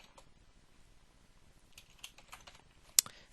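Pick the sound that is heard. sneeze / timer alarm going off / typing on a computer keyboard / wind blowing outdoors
typing on a computer keyboard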